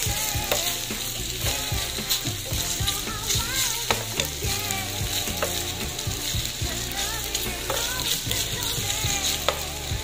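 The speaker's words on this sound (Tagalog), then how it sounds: "ilalagay na natin ang ating potato. Haluin natin guys" Sliced potato frying in a pan for a potato omelette, a dense, continuous sizzle with frequent clicks and scrapes from stirring, close and steady throughout, no talking.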